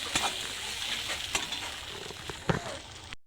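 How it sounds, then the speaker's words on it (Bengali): Sizzling curry in a pan as water is poured in, a loud bubbling hiss with scattered sharp spits and a couple of clattering knocks from a spoon, no talking. "আমি ঝোলের মধ্যে জল দিয়ে দিচ্ছি"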